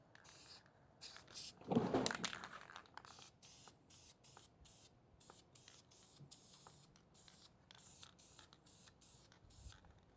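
One strong hissing burst from a spray paint can onto a small-block Chevy oil pan, about a second long, then a faint steady hiss and small rustles trailing off in a quiet space.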